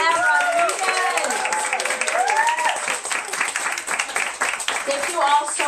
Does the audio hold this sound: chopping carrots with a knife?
no